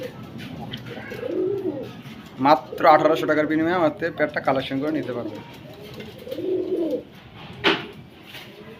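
Hungarian Budapest pigeons coo repeatedly and close by, their rolling calls continuing under someone talking.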